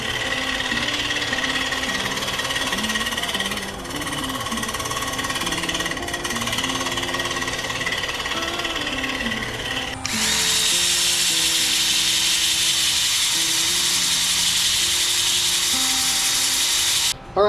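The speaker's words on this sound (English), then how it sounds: "now we have sanded that up to 180 grit" A wooden feather bowl spins on a lathe while being sanded, a steady motor whine with a continuous abrasive hiss that grows brighter and louder partway through; no voices.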